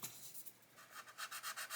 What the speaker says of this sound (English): So we can just sand this and see what we get.